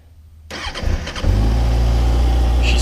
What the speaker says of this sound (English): it's cold out, so let's start her up real quick